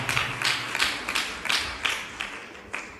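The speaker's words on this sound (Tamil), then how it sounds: "கைத்தட்டி தனலட்சுமியை வரவேற்போம்" At a church debate gathering, an audience claps to welcome a speaker to the stage, a light, uneven round of hands with distinct accented claps, moderately close and somewhat soft.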